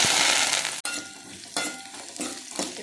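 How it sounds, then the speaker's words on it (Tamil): Onions, curry leaves and tomatoes sautéing in a pan: a loud, close sizzle that starts strong, cuts out sharply for an instant, then returns softer with a few stirring scrapes. "இது நல்லா வதங்கட்டும்"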